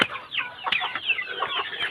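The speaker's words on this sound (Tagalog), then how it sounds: "Yung manok ni Clyde, si Flame" A rooster named Flame clucks and chatters in short, busy bursts, fairly close and moderately loud, with no talking over it.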